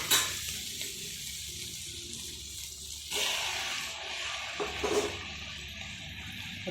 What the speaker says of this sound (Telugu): ఇవి వేగినాయి కదా, ఇప్పుడు బంగాళదుంప ముక్కలు కూడా వేసేసుకున్నామండి.